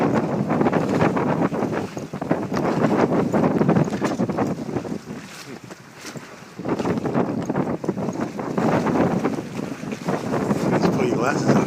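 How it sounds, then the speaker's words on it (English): A 27-foot O'Day sloop sails under jib alone in strong wind, with loud steady wind rush and water noise along the hull throughout, easing briefly midway before building again. "We're using just the jib because we have plenty of wind"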